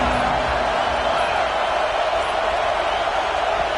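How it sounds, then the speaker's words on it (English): A packed college football stadium crowd at Oklahoma versus Texas A&M roars in a loud, steady, dense wash of cheering that holds unbroken throughout, with no clear single voices standing out. "This crowd ready to make its presence known."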